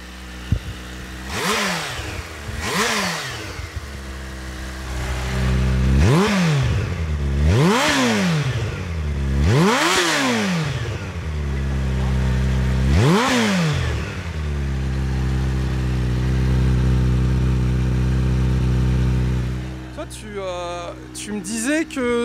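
A 2019 Kawasaki Ninja H2 SX SE+ supercharged motorcycle started and revved, with several sharp rising-and-falling revs over a steady idle, loud and close, ending in a clattering blip; people talk around it.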